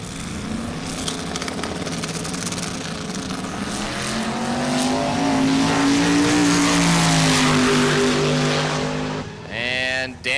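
Drag race cars, a 2018 Mustang against a 1964 Pontiac Le Mans, roar down the strip with a rising engine howl that swells and then fades, heard at a distance under an announcer's commentary.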